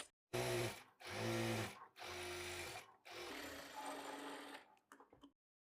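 A sewing machine runs in three or four steady bursts of whirring and clatter while it stitches blouse fabric and its lining. The bursts are separated by brief pauses, and a few light clicks come at the end.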